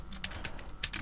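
Quick bursts of computer keyboard typing as code is entered, a run of about eight crisp, irregular key clicks, close and fairly quiet with no talk.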